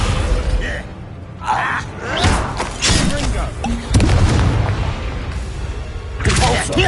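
A Descendo spell is cast during a Hogwarts Legacy duel, with repeated loud booming impacts and whooshing bursts amid busy combat sound and a shouting voice.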